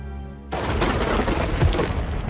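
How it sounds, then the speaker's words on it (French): Explosion in an animated monster truck race: a sudden loud broadband blast bursts in after a quiet start and rumbles on with crackling debris and a second thump, sustained and close. "Cette explosion, c'est toi?"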